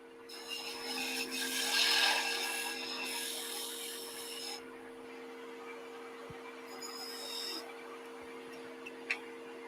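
A woodturning lathe tool held as a scraper against spinning wood gives a continuous dry rasping scrape over the lathe's steady motor hum. It swells louder in the first few seconds, eases off, then a few lighter scrapes follow.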